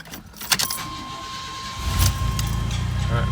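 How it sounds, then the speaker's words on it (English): A car engine starts and settles into a steady idle after brake bleeding, ahead of a test drive, with a brief jangle of keys near the start and a low, continuous rumble through the rest. "we're gonna go ahead and take it for a test drive"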